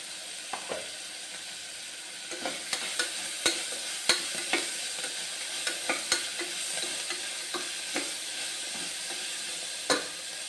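Curry leaves and coriander frying in a pan, a constant sizzle broken by a series of sharp spatula taps and scrapes at irregular intervals, close and fairly loud.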